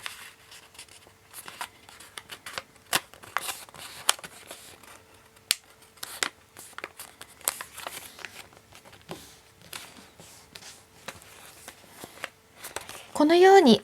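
A sheet of origami paper is creased and folded into a triple heart, giving a run of crisp crinkles, taps and sharp creasing snaps close up, with a brief voiced sound at the very end.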